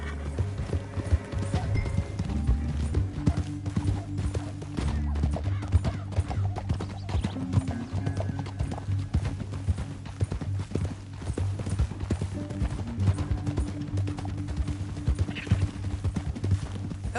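Horses' hooves clip-clop steadily over the ground in Red Dead Redemption 2, a continuous rhythmic pounding of galloping riders, close and fairly loud beneath a low rumbling game soundscape.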